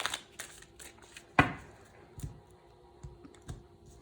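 A deck of tarot cards is cut and shuffled by hand, giving soft riffling flutters and papery slaps with one sharper snap near the start, close and alone.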